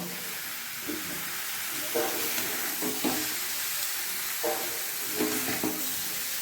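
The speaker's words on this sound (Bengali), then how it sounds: "এবার ফুলকপিটার সঙ্গে মশলাটাকে ভালোভাবে মিশিয়ে দেবো।" Cauliflower with spices is stirred in a frying pan under a loud continuous hiss of sizzling oil, with repeated soft scraping strokes of the spoon.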